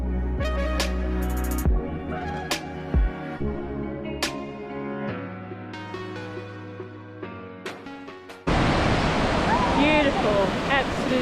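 Ocean surf breaks on Currumbin Beach on the Gold Coast, a loud, broad rushing wash of waves that sets in abruptly near the end after a stretch of music.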